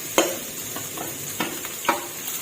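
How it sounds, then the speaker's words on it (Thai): Shrimp fried rice stir-fried in a pan, with a soft sizzle under a few sharp scrapes and clinks of the spatula against the pan. "พอกุ้งเริ่มสุกค่ะ ใส่ข้าวลงไป"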